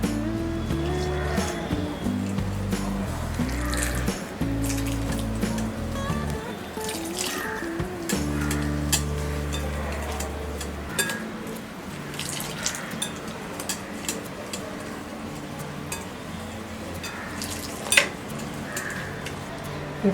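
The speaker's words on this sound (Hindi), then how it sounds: "इस बेसन में हम थोड़ा थोड़ा पानी ऐड करेंगे और एक बैटर बनाएंगे।" Water being added little by little to gram flour and stirred into a flowing batter for bread pakora, heard as soft drips, wet stirring and occasional spoon clinks against a bowl, close and steady over a low background hum.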